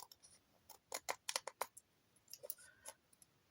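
Scissors snipping paper while trimming a small notebook cover, a quick run of crisp close clicks and snips in two bursts, faint and alone.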